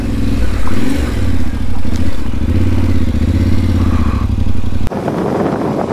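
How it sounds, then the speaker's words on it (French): A Yamaha Ténéré World Raid adventure motorcycle pulls away in first gear, its engine rising loud and close with some clatter before the throttle eases off. "Hop, on accélère un peu quand même."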